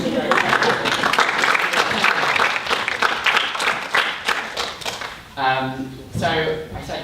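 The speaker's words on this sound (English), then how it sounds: "Just a round of applause." An audience claps for a volunteer at a talk, a dense burst of applause for about five seconds that thins out, then a few voices speak near the end.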